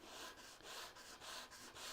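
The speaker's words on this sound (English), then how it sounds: "I've got 100 grit sandpaper on the sanding block" 100-grit sandpaper on a sanding block rubs back and forth across wood in a steady rhythm of raspy strokes, about six or seven passes, close and alone.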